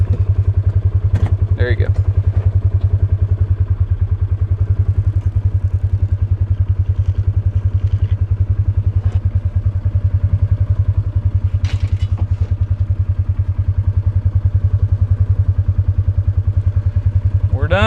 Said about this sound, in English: Learning to drive the side-by-side today.